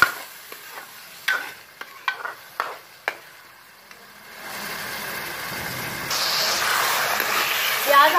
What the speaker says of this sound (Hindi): प्याज को लाइट ब्राउन करेंगे।